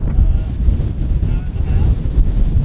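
Strong wind buffets the microphone near the sea at Termination Point in Alaska, a loud continuous low rumble with surging gusts throughout.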